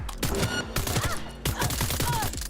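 Bursts of gunfire in the video game Cyberpunk 2077 crackle in quick, clustered volleys of sharp shots, fairly faint and repeating across the short stretch.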